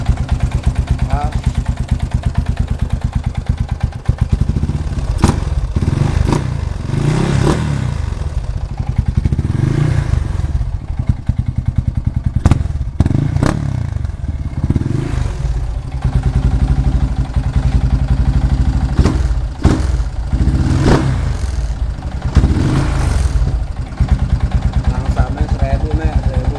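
Suzuki Thunder/Scorpio 225 single-cylinder motorcycle engine holding a steady low idle around 1000 RPM after carburetor vacuum set work, a continuous loud close thrum with a few small throttle blips, under intermittent talk.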